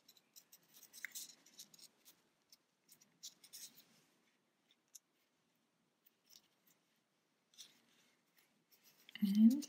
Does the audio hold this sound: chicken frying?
no